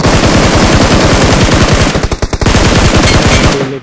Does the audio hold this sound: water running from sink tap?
no